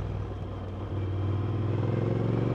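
A Honda NC750X motorcycle with throttle-by-wire accelerates in Sport mode, its engine a loud, steady rumbling drone that steps up in pitch partway through.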